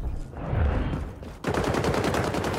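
Rapid automatic AK rifle fire in the online shooter XDefiant, loud dense bursts with a brief pause before a second sustained volley.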